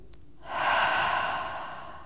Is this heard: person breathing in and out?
yes